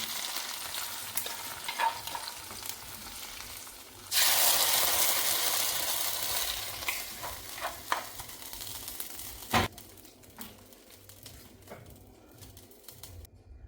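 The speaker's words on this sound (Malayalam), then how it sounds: "വറവ് എന്നാൽ കടുക്, വറ്റൽമുളക്, കറിവേപ്പില എന്നിവ കൊണ്ടുള്ളൊരു വറവാണ് ചേർക്കുന്നത്." A tempering of mustard seeds, dried chillies and curry leaves hits a Kerala mixed vegetable curry with a sudden loud hiss that slowly fades, amid scattered clinks and faint birds cooing in the background.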